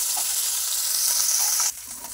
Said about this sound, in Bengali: আর মাছগুলো যেহেতু লাল লাল করে ভাজতে হবে, একটু ভালো করে মচমচে করে ভেজে দেবো